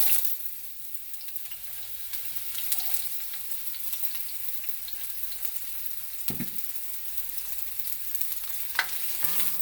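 Onions frying in hot oil for goat curry, a steady close sizzle with a soft crackle running the whole time, a few sharp clinks of a utensil against the pan breaking through near the middle and the end.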